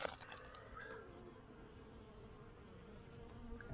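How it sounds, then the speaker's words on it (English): Bees buzzing around a hive on a sunny day, a steady close hum of many insects flying in and out, with no talking. "So here's the bees."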